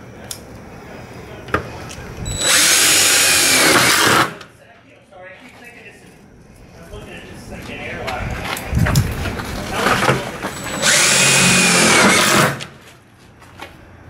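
A power drill driving number 12 one-inch self-drilling screws while an extended stop arm is mounted on a bus. Two loud, sustained bursts of several seconds each, close by, with quieter handling noise and someone talking between them.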